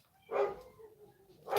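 A dog barks outside, two short sharp barks spaced about a second apart, moderately loud against a quiet room with no talking.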